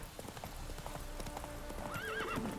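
Hooves clip-clop steadily as wild horses gallop nearby in the video game The Witcher 3, then a horse neighs loudly with a rising, wavering whinny near the end.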